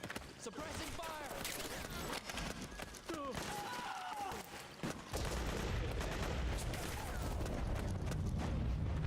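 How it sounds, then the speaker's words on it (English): Suppressing gunfire in Metal Gear Solid 4: Guns of the Patriots, bursts of rapid shots and clattering mechanisms mixed with shouted voices and game noise, ending in a dense rumble. "Suppressing fire!"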